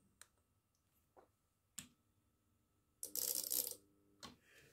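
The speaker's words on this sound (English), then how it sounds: "it shuffles all its umpteen relays, which is absolutely brilliant." An ATU-100 antenna tuner's relays click: a few sharp, dry clicks spaced irregularly, then a short burst of rapid rattling clicks, with one more click after it; quiet and close, with no talking.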